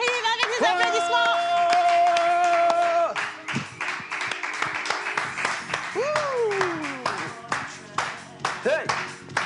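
An audience claps and cheers as a guest arrives on stage at a live show, with loud rhythmic clapping, whoops and crowd noise alongside a sustained musical tone and a sliding whistle-like sweep.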